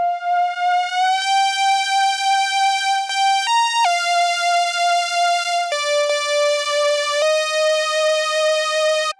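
A bright, buzzy analog synth holding sustained notes that glide smoothly between pitches, loud and continuous with no other sounds.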